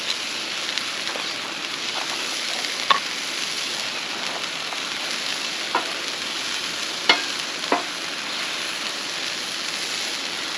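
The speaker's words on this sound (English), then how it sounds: "And the sausage, just put it on there and let it cook." Sausage patties cut from partially frozen sausage frying in a pan as part of a cinnamon bun breakfast sandwich: a steady, even sizzle throughout, with a few small pops and crackles scattered on top.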